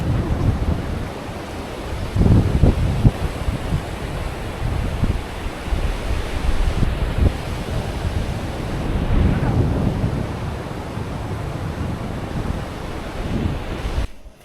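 Sea waves breaking where a stream meets the sea at Mui Ne, Binh Thuan, Vietnam, a continuous rushing wash with occasional stronger surges and wind noise across the microphone.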